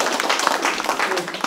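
Audience at a Buddhist monk's lecture and Q&A clapping briefly to welcome a questioner, a quick burst of close, steady applause lasting under two seconds.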